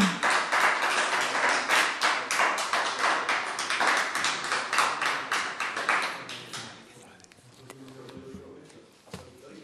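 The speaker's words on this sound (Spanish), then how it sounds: "También se admiten los aplausos" Applause breaks out in a municipal council plenary session after an item is approved, a room of hands clapping in quick rhythmic bursts that thin out and fade after about six seconds, leaving scattered claps and faint murmurs.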